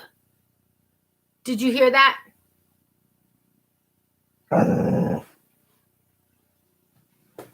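A dog lets out two short, throaty burps a few seconds apart, close and fairly loud against silence, and a person speaks briefly.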